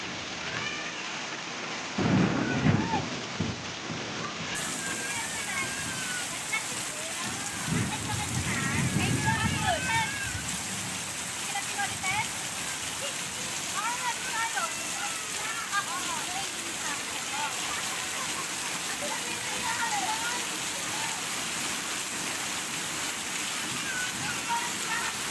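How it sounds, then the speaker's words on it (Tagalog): Heavy rain pours steadily, with deep rolling thunder rumbling in the opening seconds and again near the middle, and a faint voice or two is heard beneath the downpour. "Ang lakas-lakas ng ulan. Tapos may kulog at may kidlat pa."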